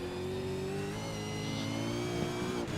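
Sim race car engine from a V8 round of an online racing game at Okayama, revving steadily at high pitch with strong harmonic whine, loud and continuous, a slight pitch dip near the end as it shifts.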